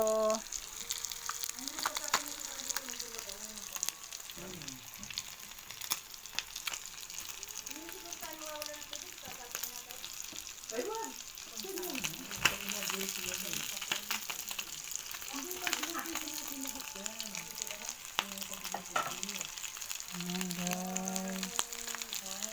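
Fish frying in hot oil for a Filipino home lunch, a constant soft sizzle and crackle with people talking over it.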